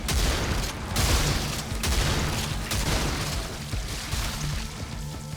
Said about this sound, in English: Whoops, grenades.